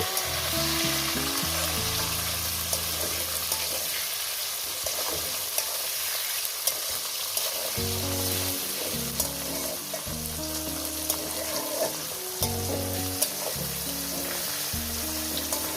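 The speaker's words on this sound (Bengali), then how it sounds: "টমেটো লঙ্কাটাও তো আমি মিনিমাম আরও দু তিন মিনিট ভেজে নেব" Tomato and chili fry in a pan with a steady, loud sizzle that never lets up, and occasional stirring scrapes underneath.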